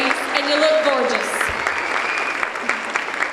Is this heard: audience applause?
yes